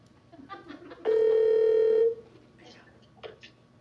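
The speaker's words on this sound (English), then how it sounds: "Oh, it's ringing!" A telephone ringing over speakerphone while a live magic comedy podcast places a call, one steady electronic ring tone lasting about a second, with faint voices before and after it.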